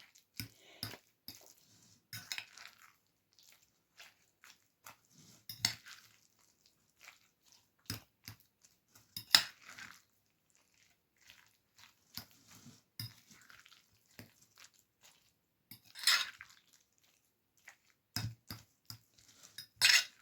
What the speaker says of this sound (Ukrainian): Перемішаю трішки.